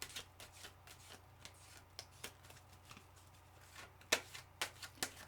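Tarot cards are shuffled by hand close up, with soft repeated riffling and flicking and a few crisper snaps near the end, all quiet and without talk.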